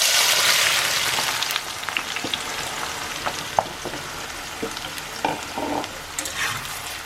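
Onions dropped into hot mustard oil, a loud initial hiss that settles into a steady crackling sizzle with occasional stirring clicks, close up.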